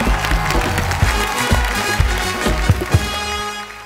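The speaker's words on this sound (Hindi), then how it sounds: "जोरदार ताली" Studio audience applause at a televised comedy and poetry show in India, dense clapping and crowd noise throughout, loud and close, with some voices mixed in.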